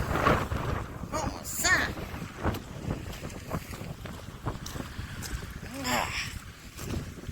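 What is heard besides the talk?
violent wind gusts outdoors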